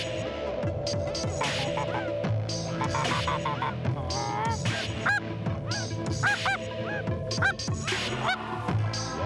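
Geese honk repeatedly during a goose hunt in Quebec, several calls overlapping at moderate distance over a low, steady hum, with no one speaking.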